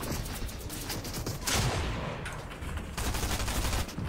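Dense gunfire rattles through a video game firefight, with loud sustained volleys and sharp bursts, steady and close throughout.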